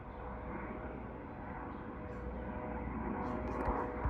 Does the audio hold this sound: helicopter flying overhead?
yes